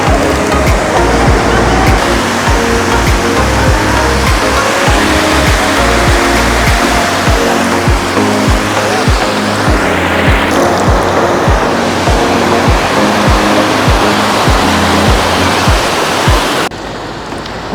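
Sea waves crash on the shore near a Shiva trident monument, a loud continuous roar of surf with rolling, overlapping breakers, close and steady throughout, with no voices.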